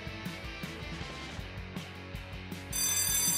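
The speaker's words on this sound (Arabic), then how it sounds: "الجرس رن" School bell ringing, a repeated electronic ringing tone in regular pulses, moderately loud, followed by a louder burst of sound near the end.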